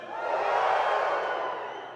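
A crowd at a live-streamed university event lets out a single swelling woohoo shout that rises, peaks and fades over about two seconds, moderately loud and clear of other talk.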